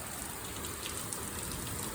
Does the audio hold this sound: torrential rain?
yes